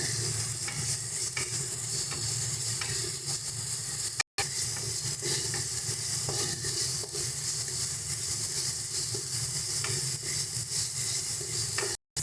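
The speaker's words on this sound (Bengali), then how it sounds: "যতক্ষণ না মশলা থেকে তেল ছাড়ছে ততক্ষণ মশলাগুলোকে আমরা কষিয়ে নেব" Spice paste fries in oil for doi katla, a loud, dense and steady sizzle with soft stirring scrapes, cut by two very brief dropouts.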